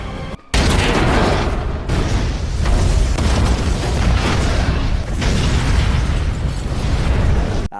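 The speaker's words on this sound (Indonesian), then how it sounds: "Daeho meledakkan sebuah bom rakitan" A homemade bomb detonates in a film scene: a loud, sustained roaring blast with rumbling debris and crackling bursts, filling the whole stretch after a brief quieter opening.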